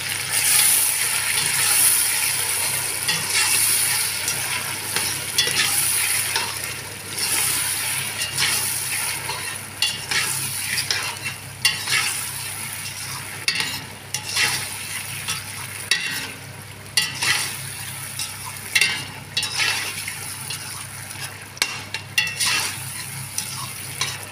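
Tomato paste frying in a pan with brown flour and vegetables, a loud steady sizzle broken by repeated scraping stirs and clinks of the utensil against the pan, with no voices.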